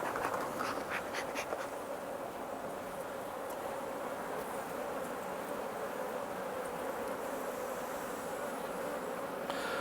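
Honeybees hum in a dense, steady drone up close at an open hive, a continuous buzzing swarm with faint handling noises early on.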